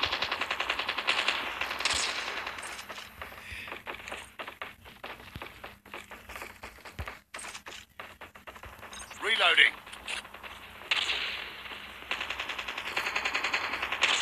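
Rapid bursts of automatic gunfire and shotgun blasts from the mobile game Call of Duty Mobile rattle on almost continuously, with a player talking over the shooting.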